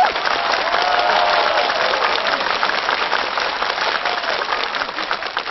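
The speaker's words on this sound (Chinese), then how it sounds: "掌声有请。" Studio audience applause breaks out on a comedy talk show stage as a guest dance teacher is welcomed, a dense, steady clapping that fills the whole clip without speech.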